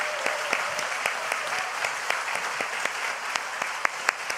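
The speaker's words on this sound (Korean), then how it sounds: "우리 박수로 한번 격려하겠습니다." A church congregation claps to encourage a missionary couple: a steady, moderately loud patter of many hands, with distinct sharper claps breaking through at irregular moments, and no talking over it.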